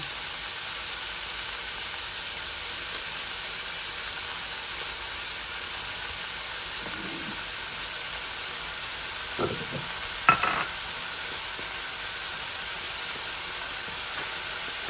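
Onions and leafy greens fry in a pan with a steady low sizzle, broken by a few brief scrapes of stirring, and no voices.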